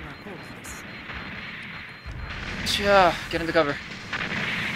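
Gunfire and artillery blasts aimed at a player in the Gundam Online video game, loud booming bursts that swell midway through, mixed with a sweeping whine, as someone shouts over the top.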